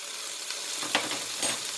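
Mongolian pork sizzles steadily in a hot pan just after a splash of white vinegar goes in, a close, even hiss with a couple of faint stirring clicks and no talking.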